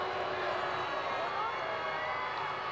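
Baseball crowd at a 1995 Colorado Silver Bullets game against Ft. Irwin cheering after a double play, a steady broad roar of many distant voices lasting throughout.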